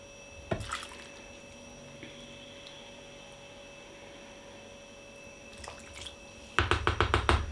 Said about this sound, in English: I'm just gonna pour that into a jug, check the temperature, and then mix that in here.